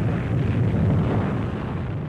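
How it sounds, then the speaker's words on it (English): Archival footage of Vesuvius erupting, a deep, continuous rumbling roar that swells and fades over a couple of seconds, distant and muffled, with no voices. "Explosion 3 miles into the sky, belching fury that dwarfs the man-made war nearby."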